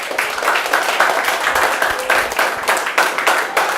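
An audience claps steadily in a dense, continuous round of applause with slight surges in intensity, fairly loud throughout.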